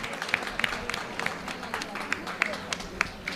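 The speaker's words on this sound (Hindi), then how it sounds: "एक बार डॉक्टर साहब के लिए सुंदर तालियां" An audience claps for a doctor in a steady ripple of scattered handclaps, modest and a little distant, lasting a few seconds.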